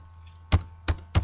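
Three separate keystrokes on a computer keyboard while code is typed, each a soft thunk spaced unevenly over a second, fairly close and moderately loud over a low steady hum, with no talking.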